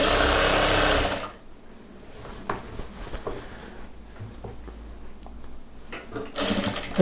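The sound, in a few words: sewing machine stitching a chudidhar pant joint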